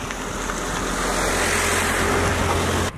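A car rushes past on a road near a French countryside house build, a loud rising-and-falling whoosh of tyres and engine that swells over three seconds before cutting off abruptly.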